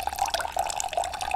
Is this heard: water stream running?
yes